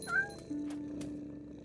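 A cat meows in the video game What Remains of Edith Finch, one short rising meow followed by softer mewing, fairly close against quiet game ambience.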